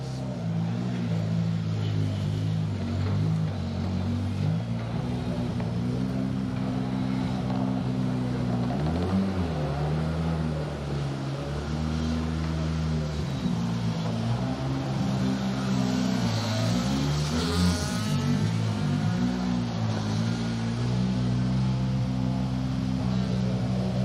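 Rally cars at Cadwell Park rev and drive in at a circuit rally event, a steady engine drone with rising and falling rev sweeps, fairly loud, with some faint voices in the background.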